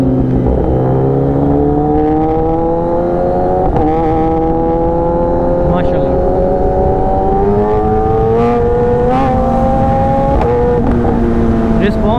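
A 1000cc Kawasaki ZX10R engine revs loudly and close on a highway ride, its pitch climbing in repeated surges with brief dips between pulls, a strong harmonic whine over rough exhaust rumble.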